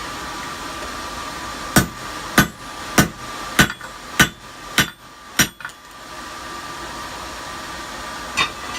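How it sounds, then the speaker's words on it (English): A big hammer strikes metal seven or eight times in a steady rhythm, each blow a sharp, ringing clang, while a leaf keychain is shaped. A final lighter tap follows after a pause, over a constant hum of background noise. "with the big hammer,"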